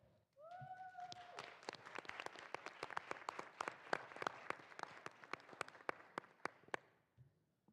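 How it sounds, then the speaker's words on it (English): An audience at an event applauds with distinct, fairly quiet hand claps in an uneven patter for several seconds, opening with a brief high vocal cry and then fading out. "Please let's give one more round of applause for Fanon"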